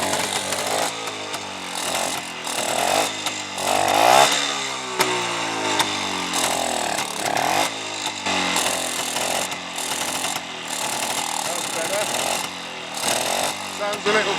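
A BSA Bantam motorcycle engine, semi-flooded after a long lay-up, runs with its fuel turned off. The engine buzzes loud and close, its revs rising and falling unevenly throughout.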